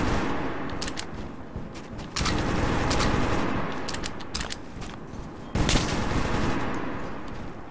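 Gunfire in the Metro 2033 Redux video game, with several loud, sharp broadband shots at around 2 and 5.5 seconds, each followed by a sustained noisy wash. The first burst is a distinct report and the second a louder one.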